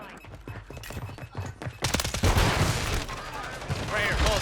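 Rapid automatic fire from a WSP-9 in Call of Duty Warzone, a dense rattling stream of close, loud shots that grows heavier and more chaotic partway through, mixed with other gunfire.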